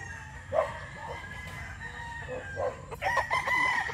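Boston Roundhead gamecock roosters on a farm, with crows and clucks rising over a busy, noisy yard background, a louder burst near the end.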